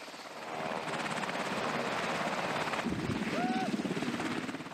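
A military helicopter flies steadily and loudly close by, its rotor chop filling the whole clip, while a faint voice comes through under it near the end.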